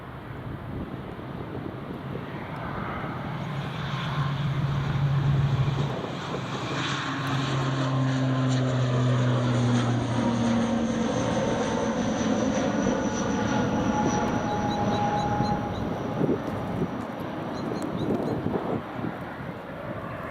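Aer Lingus airliner departing Edinburgh Airport, a sustained engine roar that builds and holds through the middle, with heavy wind buffeting on the microphone and no clear talk.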